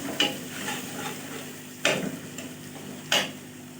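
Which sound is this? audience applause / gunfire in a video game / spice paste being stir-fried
spice paste being stir-fried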